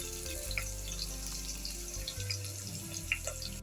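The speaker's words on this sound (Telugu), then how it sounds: "వేడి నీళ్ళు పోసాం కదా మిల్ మేకర్లో అవి వచ్చేసి చల్ల వాటర్ పోసుకుందాం." Cold water is poured over hot-soaked meal maker soya chunks in a kitchen, a continuous splashing pour over a low steady hum and faint background sizzle, with no talking.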